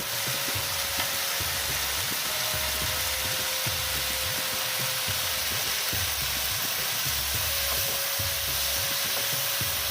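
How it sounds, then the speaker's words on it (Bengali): Cashew nuts hit a hot frying pan while paneer butter masala is being cooked, setting off a loud, continuous sizzle broken by regular, rhythmic stirring scrapes of a spoon against the pan. "এবার আমি দিচ্ছি কিছু কাজু বাদাম"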